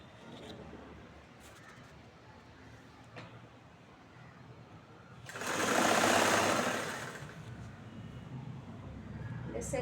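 A sewing machine stitches the bottom seam of a chudithar in one loud, continuous whir lasting about a second, with quiet background noise before and after.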